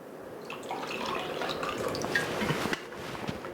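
Running water splashes and patters steadily as produce is rinsed with high pH alkaline water from an electrolysis machine, close and moderate in level, with no talk.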